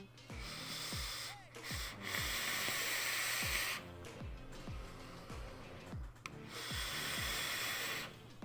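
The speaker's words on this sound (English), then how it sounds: "it's quite a smooth vape as you heard there" Draws through a Vandy Vape Widowmaker RDA with honeycomb airflow make a long, airy hiss up close. Each pull ends in breathy exhales, repeated over several seconds with some low mumbling underneath.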